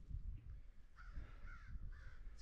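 A crow caws repeatedly in a coastal park on the Bay of Fundy, three harsh calls rising over low rumbling wind and handling noise outdoors.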